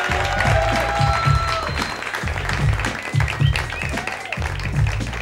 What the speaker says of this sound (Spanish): Este es el aplauso para el bombón encendido.